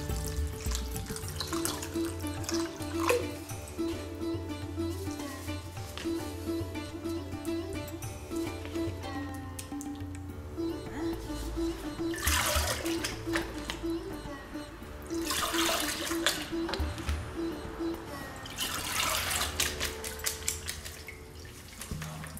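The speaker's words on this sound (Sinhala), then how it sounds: "දැන් ඔයගොල්ලන්ට පේනේවි වතුර පෙරෙනවා" Water trickles and drains steadily from lemon-curdled cottage cheese squeezed in a cloth while making rasmalai, a continuous wet running sound with faint background tones throughout.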